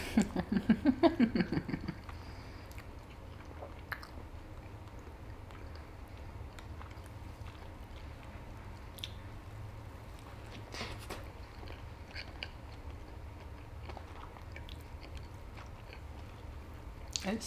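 Soft chewing of an orange zest cinnamon roll with cream cheese frosting, a few louder bites at the start, then quiet, close-up mastication and faint rustles continuing at low level.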